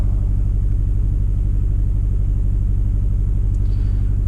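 A car engine idles roughly with an ignition coil fault and misfires on cylinders 3 and 4, giving a steady, choppy low rumble that pulses unevenly, close up and alone.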